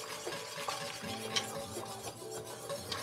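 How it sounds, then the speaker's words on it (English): A whisk stirs sauce in a pot for Bourdain's boeuf à la ficelle, rapid continuous scraping and light metallic clinks, close and fairly quiet with no talking. "Whisking does cool things down."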